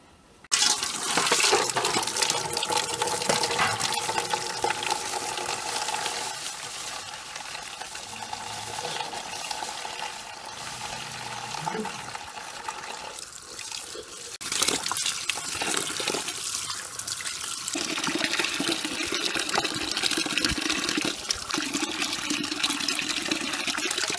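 Rose petals are washed under running water from a tap for rose syrup, a continuous splashing stream with some stirring and sloshing that shifts in tone partway through.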